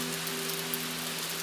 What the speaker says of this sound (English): Rain is falling soft and slow.